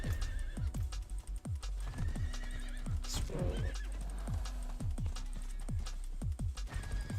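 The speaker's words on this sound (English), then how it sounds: "stupid horse" Horses neigh and whinny in the Diablo 4 action game, with steady clip-clop hoofbeats running throughout and a louder whinny midway, all fairly close.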